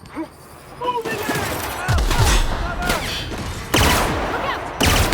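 Gunfire in the sci-fi video game The Outer Worlds during a prison break, with bursts of shots and heavy impacts in a chaotic firefight, mixed with game voices shouting and game sound effects.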